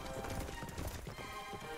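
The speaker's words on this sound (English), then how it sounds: "I don't think you're gonna fucking outrun a horse" Horses' hooves clip-clopping at a gallop in the Dragon Quest XI video game, a steady dense drumming mixed with game music and effects, with a faint neigh.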